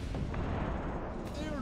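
Heavy gunfire booms in the RTS game Red Chaos as a unit is shot down, a dense rumbling barrage with a faint voice beneath it.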